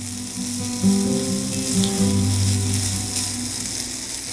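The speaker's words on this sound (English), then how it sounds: "I'll be starting with my chickpeas, getting those stirred in" Chickpeas stirred into a hot, sizzling sauce in a pan, a steady close frying crackle with a few soft stirring scrapes over a low humming background, no voices.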